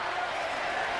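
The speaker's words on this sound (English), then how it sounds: "Listen to the crowd." Wrestling arena crowd at a 1998 WWF Shotgun Saturday Night match between Vader and Mark Henry, a steady, dense roar of many voices filling the hall with no clear breaks.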